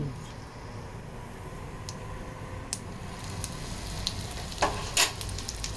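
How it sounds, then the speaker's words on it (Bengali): Cumin seeds and asafoetida sizzle in hot oil in a wok, a soft continuous frying hiss with a few sharp crackles and pops near the end, quiet and close. "কড়াইতে তেল গরম হয়ে গেছে এবার জিরে দিয়ে দিলাম আর একটু দেব হিং"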